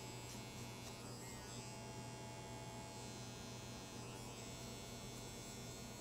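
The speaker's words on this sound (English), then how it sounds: "keeping my clipper open, going up 1/4 of an inch" Electric hair clipper with its blade lever open, running steadily and close by as it works a quarter inch up around the head during a mid drop fade haircut, a continuous buzzing hum throughout with no talking.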